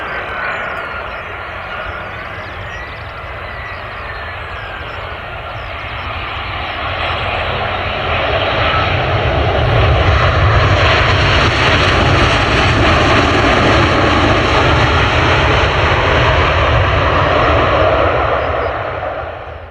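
A fixed-wing airplane on approach to an airfield drones loudly and steadily, its engine swelling as it passes close overhead and then holding a strong, continuous roar throughout.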